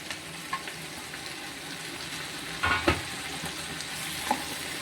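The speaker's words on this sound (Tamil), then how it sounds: "இப்போ வந்து வதங்கிக்கிட்டு இருக்கு, தக்காளி போட்டுருவோம்." Tomatoes and cashews sauté in a pan for a paneer butter masala, giving a soft, continuous sizzle broken by a few louder scrapes and stirs of a spoon.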